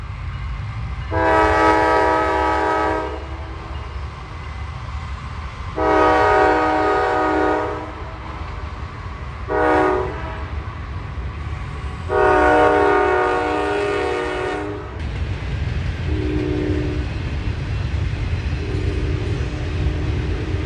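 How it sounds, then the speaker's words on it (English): Norfolk Southern Train 117 rolls eastbound past the High Street crossing at milepost 164 in London, sounding four long horn blasts and a short one over the steady rumble of passing railcars. "we observe NS Train 117, Sharonville to Bellevue, head eastbound at High Street, milepost 164 in London"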